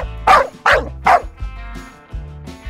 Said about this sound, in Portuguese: Muito bem, o cachorro.